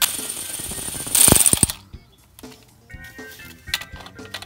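A ratchet wrench loosens 10 mm screws on the transmission filter of a 2012 Nissan Versa SV 1.6L with a CVT, a loud fast ratcheting burst followed by quieter scattered clicks and metallic taps nearby.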